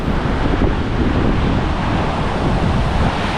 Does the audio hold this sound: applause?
no